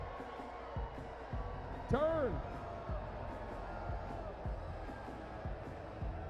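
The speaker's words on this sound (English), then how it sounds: "They're still booing." Stadium crowd booing at a Savannah Bananas versus Flamingos baseball game, a steady, dense wash of crowd noise running throughout with a voice talking over it and a brief sliding whistle-like tone near the middle.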